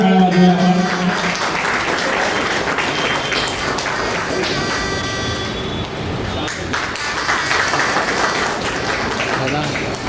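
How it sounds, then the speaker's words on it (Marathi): Audience applause at a Sant Rohidas Jayanti gathering, welcoming a guest on stage: a steady wash of many hands clapping for the full ten seconds, fairly loud and continuous, with a few bright ringing tones mixed in. "जोरदार टाळ्या वाजवूया आपण."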